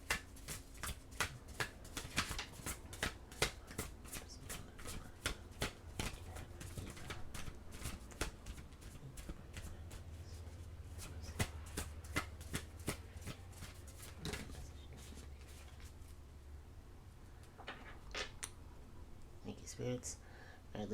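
Oracle cards shuffled by hand during a Libra tarot reading, giving a long run of quick, dry riffling snaps and flicks at a steady close pace, with a voice speaking quietly now and then.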